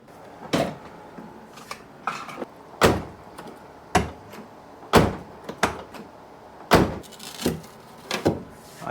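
A Volkswagen GTI body is being reassembled after a crash, and its car door is handled with a string of sharp knocks, latch clicks and thumps at irregular intervals, close by and fairly loud, with no talk.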